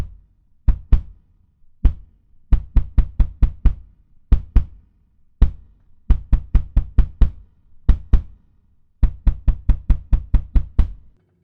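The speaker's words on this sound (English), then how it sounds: "that kick just sounds so good from where I'm sitting" Kick drum picked up by an MXL Guitar Cube microphone, struck alone in a steady groove of punchy, booming thumps, mostly in quick clusters of four to six hits separated by short gaps, close and loud.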